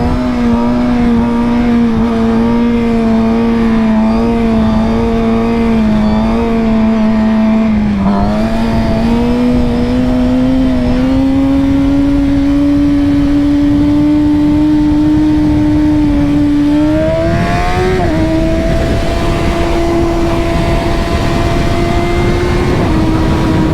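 A Suzuki GSX-R 750 sport motorcycle rides along a freeway, its engine droning steadily and loudly throughout, with pitch climbing through gear changes and heavy wind noise, no speech.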